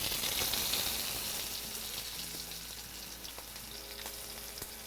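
Beef tenderloin sears in a hot pan with a steady, close sizzle, loudest at first and easing slightly, with faint clinks and scrapes scattered through.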